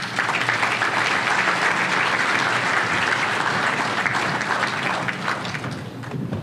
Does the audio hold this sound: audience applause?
yes